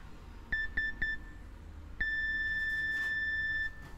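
Three quick electronic beeps, then a pause and one long steady beep tone, clear and close in a quiet room.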